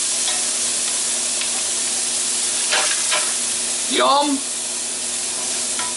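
Garlic, onions and beans fry steadily in a pan with a constant sizzling hiss, broken by a few scraping stirs; a voice briefly exclaims near the end.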